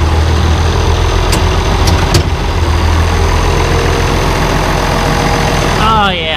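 An International Harvester 1086 tractor engine idles steadily with a low, even rumble that holds throughout, then drops away near the end as a voice cuts in.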